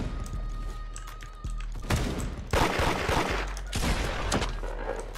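Bursts of rapid gunfire from the Roblox game Da Hood, several volleys of cracking shots and thumps in quick succession, fairly close and loud with no talking.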